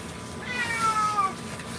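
A Maine Coon cat gives one drawn-out, mournful meow during a bath, rising then falling in pitch, close and fairly clear over a low background hum.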